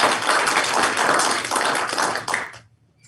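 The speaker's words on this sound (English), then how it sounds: "So let's give them a big applause." A school board meeting audience applauds a middle school team honored for first place, a steady, dense wash of clapping that carries on for a few seconds and then stops abruptly.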